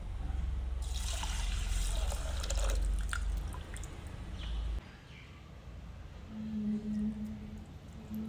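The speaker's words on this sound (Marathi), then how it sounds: "जेवढे वाटी तांदूळ असेल तेवढेच वाटी आपल्याला इथे पाणी घ्यायचं आहे" Water poured into a pressure cooker over soaked rice for curd rice, a close, loud splashing gush lasting about four seconds before it stops, leaving quieter room sound.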